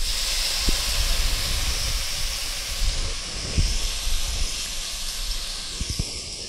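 Two tomatoes land in a hot pan while vermicelli upma is being made, setting off a loud, continuous hissing sizzle at close range, broken by a few light knocks from stirring.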